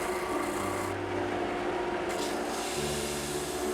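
Steady abrasive rasping of a sander working wood, continuous and close, with a slight shift in tone partway through.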